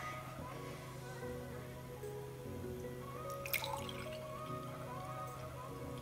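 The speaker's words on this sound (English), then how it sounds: "We're going to pour some milk." Milk being poured while making dalgona coffee, heard as faint liquid trickling and dripping over a steady low background hum, with no talking.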